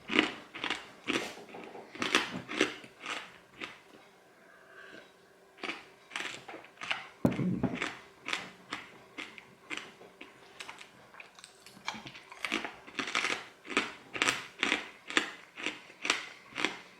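Crunchy pork scratchings, salty fried rind crisped on the outside, are chewed up close in a long run of sharp, irregular crunches and crackles with brief quieter gaps.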